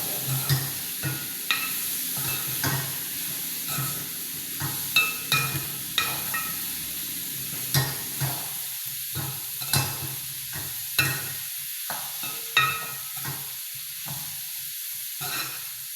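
Ingredients are stirred and mixed in a sizzling pan. A steady hiss of frying runs underneath, broken by repeated sharp scrapes and clacks of a utensil against the pan, close and fairly even in rhythm.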